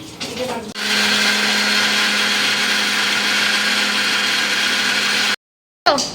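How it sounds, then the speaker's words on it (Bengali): An electric mixer grinder whirs loudly and steadily for several seconds in a home kitchen, then cuts off abruptly before briefly starting up again; faint voices come just before it starts. "মিক্সি করছে"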